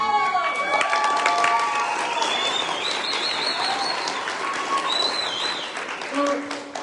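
Applause from a meeting audience in a hall, a steady wash of clapping at moderate level with crowd noise and a voice speaking over it.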